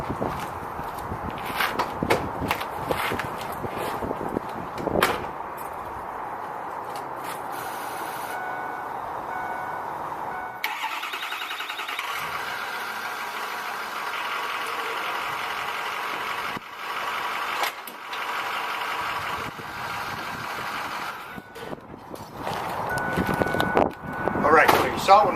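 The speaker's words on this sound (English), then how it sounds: "I'll back the truck up." A truck engine runs and idles while the truck backs up, its reversing beeps repeating over engine rumble, with footsteps and people talking nearby throughout.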